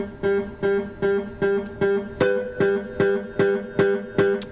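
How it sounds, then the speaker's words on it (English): Electric guitar through a Boss delay pedal set to infinite repeats, a short phrase looping over and over in a steady, evenly spaced pulse that keeps going without decaying. "make it infinite with the amount of repeats. And now it's going to go on forever."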